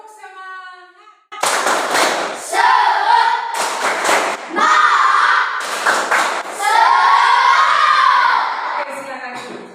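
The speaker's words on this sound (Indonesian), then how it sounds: "mari kita memberikan tepuk semangat dulu ya" A classroom of students performs a rhythmic spirit clap (tepuk semangat) led by their teacher, with bursts of group clapping and chanted voices in a patterned rhythm, loud and close, opening after a brief quiet start.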